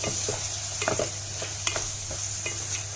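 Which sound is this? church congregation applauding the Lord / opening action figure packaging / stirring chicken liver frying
stirring chicken liver frying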